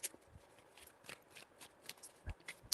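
A deck of tarot cards is shuffled by hand in a quiet room, giving repeated soft riffling and snapping bursts in an uneven rhythm, close and fairly faint, with no one talking.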